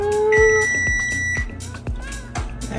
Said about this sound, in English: I forgot to turn my timer off.